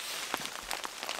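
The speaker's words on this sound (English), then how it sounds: "it is still raining" Steady rain patters on a canvas tarp stretched over a log shelter at a solo overnight camp, a soft, even hiss with scattered louder drops tapping close by.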